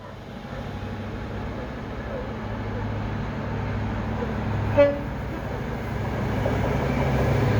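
A train rumbles past steadily at moderate distance near Dawlish, with a brief horn toot midway and a rising clatter of wheels toward the end.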